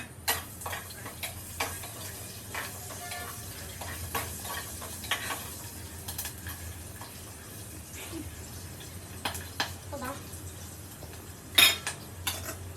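Pulao with onion, potato and pigeon peas being stirred in a pan, with soft scraping and clinking of a spoon against metal and occasional light taps over a low steady hum, fairly quiet throughout.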